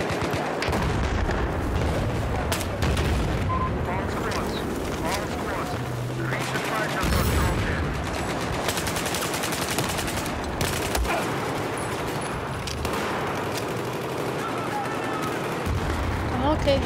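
Rapid bursts of suppressed UMP submachine gunfire ring out in the video game Battlefield 4, mixed with explosions and battlefield noise in a dense, busy soundscape.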